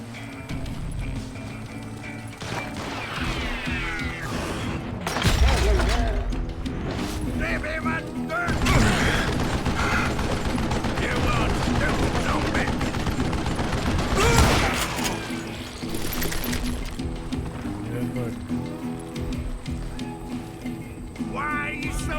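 Gunfire in the Western shooter game Call of Juarez Gunslinger, with several sharp, loud bursts of shots among busy gameplay noise while a voice talks over it.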